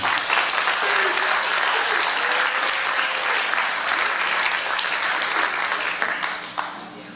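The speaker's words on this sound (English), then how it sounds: "please give a big round of applause to our moderator, John Paxton" Audience applause at a candidate forum in the Lake Worth Playhouse, honoring the moderator; dense, sustained clapping from a full house fills the space and stays loud throughout, thinning slightly near the end.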